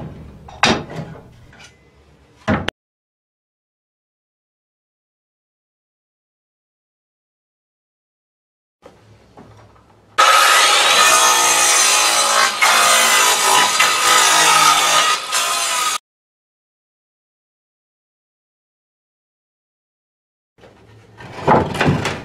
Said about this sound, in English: The bar clamps make it very convenient, and you know, so you can pull these planks off.